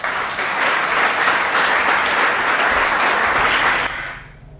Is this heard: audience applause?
yes